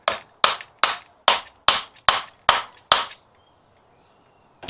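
A screwdriver is whacked against a Honda GL1200 fuel pump part in eight sharp, ringing metallic strikes at a steady beat, loud and close, then silence.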